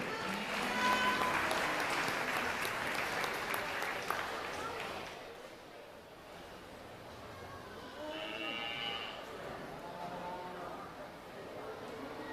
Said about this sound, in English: Let's have a round of applause for all of our Class 3 showmen.